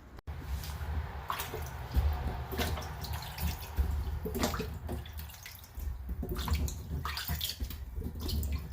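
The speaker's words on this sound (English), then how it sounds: "It's always good to wash your fruit before you're going to do anything with it." Water runs steadily from a tap while about 50 pounds of homegrown Rancho peaches are washed for canning, with splashing and dripping close by throughout.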